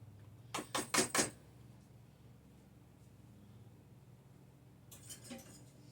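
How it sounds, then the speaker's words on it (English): Butternut squash quick bread batter being stirred in a bowl, heard as four quick clinking scrapes of a utensil against the bowl, a pause, then a softer second burst of stirring. "And just give that a good mix."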